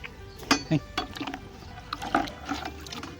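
A cow drinks water mixed with feed from a bucket, making intermittent close slurps and sloshing splashes in uneven gulps.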